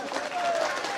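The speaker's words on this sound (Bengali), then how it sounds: "জোরে হাততালি।" Loud applause from a crowd at a prize-giving ceremony for a local competition as a trophy is handed over, a dense wash of clapping over one second with voices mixed in.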